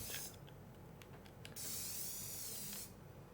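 Spray paint tool in the game Dreams, used like an airbrush: a steady, loud hiss lasting about a second and a half, set against a busy background with a few short clicks before it.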